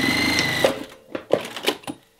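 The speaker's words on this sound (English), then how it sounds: "And now when I start to sew here, don't go all the way." Sewing machine stitching a short length of binding on a mini quilt, a brief whir at the start followed by a few soft clicks and taps, close and fairly quiet.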